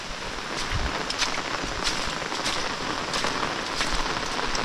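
Heavy monsoon rain pours steadily in a Konkan village, a dense continuous hiss of drops striking surfaces with occasional louder splatters, heard up close.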